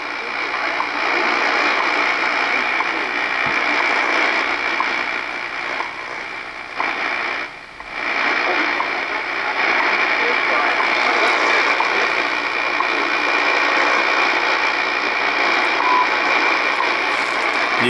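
WWV shortwave time station on 10 megahertz received on an Icom IC-R8500 receiver, a steady hissy radio signal with static and faint ticking, briefly dipping midway, continuous and fairly loud.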